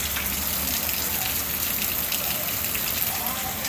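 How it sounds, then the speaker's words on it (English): Extremely heavy Texas rain hammering down outdoors, a thick continuous roar and hiss of pouring water with scattered splashing spikes, steady and loud throughout. "Holy cow, it's raining out here."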